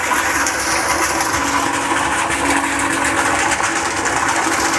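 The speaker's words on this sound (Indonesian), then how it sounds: "Baik, sekarang pompa akan saya nyalakan." Anti-corrosion water pump running after being switched on, a steady even hum with a faint whirring and watery hiss, constant and fairly close, without talk.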